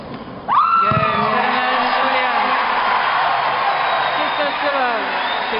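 A player lets out a long, loud scream after winning match point in a US Open 2012 semifinal, and a cheering stadium crowd swells under and around it.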